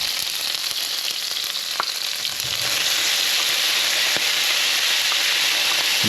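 Garlic, Scotch bonnet pepper, tomato and green onions sauté in oil left from frying fish for Jamaican brown stew fish. The sizzle is loud and steady, with only a few faint clicks from the pan.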